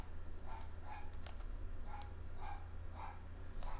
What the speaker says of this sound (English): it's my dog barking if you hear it.